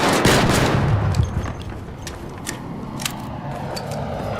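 Automated turrets firing in the video game ARC Raiders: rapid sharp gunfire bursts, dense at first and then settling into scattered individual shots, loud over a constant noisy background.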